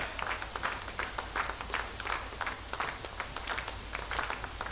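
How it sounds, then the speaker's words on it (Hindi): An audience at a dance competition grand finale in Seppa, Arunachal, applauds the designer, scattered and rhythmic clapping at moderate level over a low venue hum. "मैम के लिए एक जोरदार तालियां हो जाए।"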